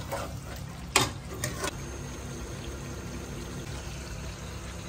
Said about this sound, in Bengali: mutton কষছে, mutton কষছে